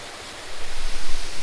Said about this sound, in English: A lot of times there's water flowing by,